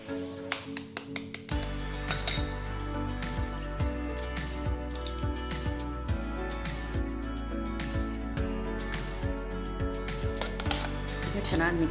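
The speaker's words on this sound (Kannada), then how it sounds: "ಚೆನ್ನಾಗಿ ಮಿಕ್ಸ್ ಮಾಡ್ಕೊಳ್ಳೋಣ." Eggs are whisked in a bowl for egg paddu batter, with quick, light, rhythmic clicks and taps of the utensil against the bowl repeating steadily and close.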